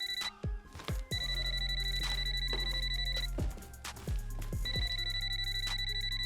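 A telephone rings in a house, repeated electronic bell trills in bursts with short pauses between them, loud and close, with clunks and knocks in the background and no one talking.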